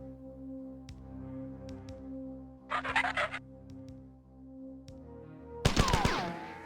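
Weapon fire in the 1994 first-person shooter Marathon: a loud burst of crackling shots near the start, then a brighter, louder blast near the end, set over a steady droning game ambience with faint blips.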